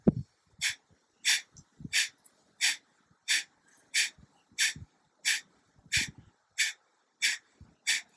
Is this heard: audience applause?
no